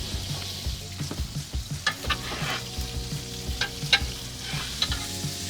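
Skirt steak sizzles in a pan at an Ooni outdoor cooking setup, an ongoing fry hiss broken by irregular crackles and pops, with clinks and shuffling from handling nearby; no one speaks.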